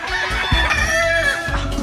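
Several chickens cluck and squawk close by at the Vikings Gameyard in a busy, overlapping chorus, loud and continuous.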